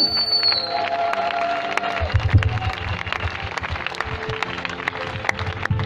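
A church congregation applauds, a dense wash of clapping that swells after a couple of seconds and carries on, with scattered crowd murmur and a faint tone fading out at the start.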